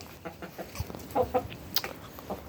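Chickens cluck softly in short, scattered bursts at moderate distance while eating grain, a few quick calls clustered together against a quiet background.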